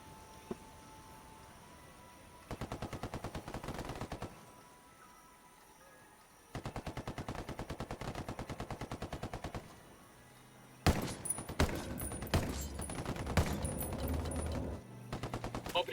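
Automatic gunfire in the shooter game Ghost Recon Wildlands, several sustained rapid bursts separated by brief pauses, ending in a louder, denser barrage of overlapping shots.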